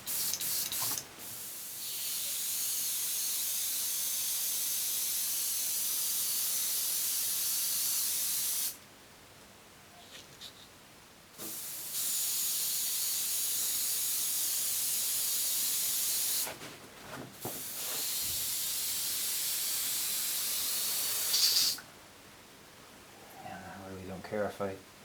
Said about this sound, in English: So I've got my airbrush all set up here